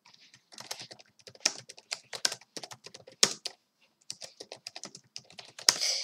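Brisk typing on a computer keyboard while entering a chat message during an online chess bullet arena, with irregular bursts of close, crisp key clicks and short pauses between words.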